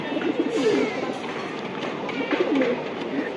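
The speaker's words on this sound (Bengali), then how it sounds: "কবুতরটা খুব সুন্দর একটা কবুতর" A racing pigeon coos in low, rolling phrases nearby, twice in a few seconds, over steady background noise.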